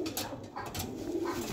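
Close pigeons coo in soft, throaty rolling notes, a couple of calls in quick succession with no talking over them.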